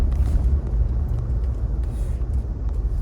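A 2021 Toyota Tacoma TRD Off Road rolls along on Laufenn X FIT HT tires, a steady low road rumble and tire drone heard from inside the cab, with no talking.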